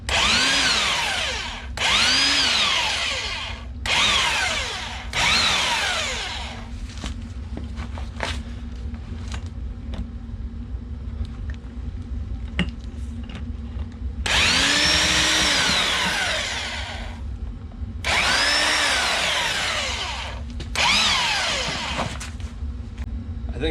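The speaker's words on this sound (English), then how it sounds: "Made room for the rotary hammer here." A rotary hammer breaks up basement concrete in loud, harsh bursts of several seconds each, separated by short quieter pauses filled with faint clatter and movement.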